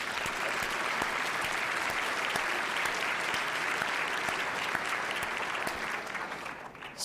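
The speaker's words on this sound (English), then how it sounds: "What about another round of applause for Dr. Carson?" An audience at a university keynote lecture applauds the speaker with steady, dense clapping that fills the hall for several seconds before tapering slightly at the end.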